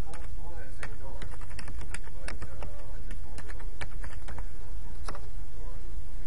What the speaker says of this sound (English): Bear with me as I type in my name and email address.